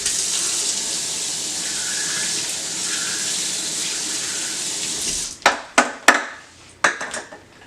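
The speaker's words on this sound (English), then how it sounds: "Let me give it a quick rinse." Tap water runs steadily into a kitchen sink for about five seconds while something is rinsed during leek and potato soup prep; then the flow stops and a few sharp clatters and knocks follow, close and fairly loud.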